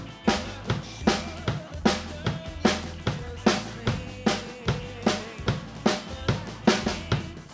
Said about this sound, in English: now we're going to add the kick drum on all the downbeats on every quarter note